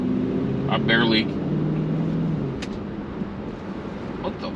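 A car fitted with a Pedal Commander throttle controller, with a stuck accelerator, revs up by itself in a brief rising engine whine that then settles into a steady road drone, with a voice over it.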